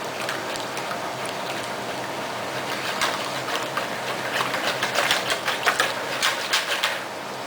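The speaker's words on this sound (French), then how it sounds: "Là, on mélange beurre, chocolat." Soft scraping and light clicking of a utensil gently stirring melted butter and chocolate in a bowl for a molten chocolate cake, quiet and irregular, growing a little busier toward the end.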